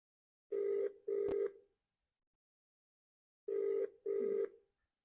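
Two pairs of ringback tones from a telephone line, each pair a double buzz, separated by a long silent gap, with no answer.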